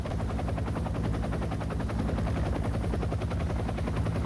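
Helicopter evacuating German airborne commandos, a loud, steady, close rotor thump with rapid regular beating throughout.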